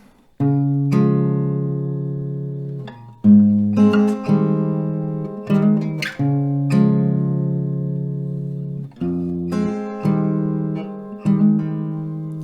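An acoustic guitar strums a chord progression, each chord ringing out for a second or two before the next is struck.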